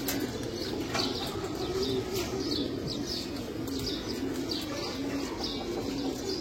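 Pigeons in a loft coo in a low, steady drone, with soft intermittent wing flutters and small chirps over continuous close background noise.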